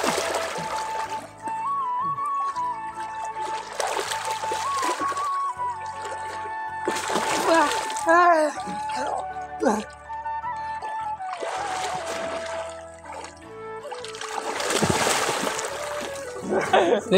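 People bathing in a canal beside a house send up several bursts of splashing water, close by, with steady talk and calls running throughout.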